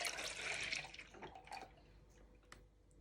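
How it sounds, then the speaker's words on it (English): Milk, a full pint, is poured into a measuring jug in a kitchen, a short, close liquid splash and gurgle that is loudest at first and then tapers off into faint trickles. "pour your pint of milk into your measuring jug"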